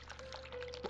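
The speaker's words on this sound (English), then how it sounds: "I should have turned that faucet off, it's really loud." A faucet in The Cat Lady runs as a faint, steady stream of splashing water. The low, continuous pour sits under a quiet ambient hum.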